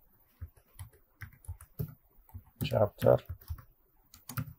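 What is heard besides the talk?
computer keyboard typing text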